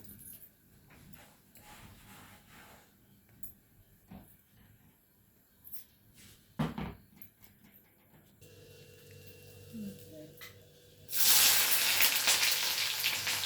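Chopped onion dropped into a small hot kadai in a home kitchen sets off a sudden loud hiss and sizzle near the end, following quiet clinks and handling sounds.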